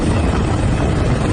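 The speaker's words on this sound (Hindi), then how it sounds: "भारत की तरफ से इस नुकसान को कम करने के लिए 2 हेलीकॉप्टर काम कर रहे हैं।" Two helicopters, a Chetak and an Indian-built Dhruv, work over an oil spill from a broken ship off Mauritius; a steady, loud low rotor and engine drone fills the whole stretch with no voices.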